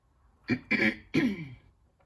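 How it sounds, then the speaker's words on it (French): Three rasping throat-clearing bursts from someone speaking French, close and fairly loud, separated by short pauses, with no speech around them. "j'arrête pas de me racler la gorge"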